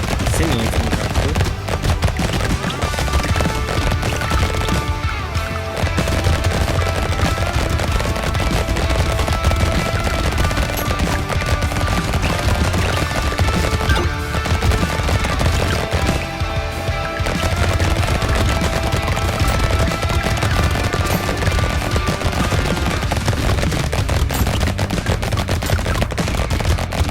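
A rapid-firing, minigun-like weapon in the game Brotato clatters out dense, unbroken automatic fire at high volume, with a few brief dips in the barrage.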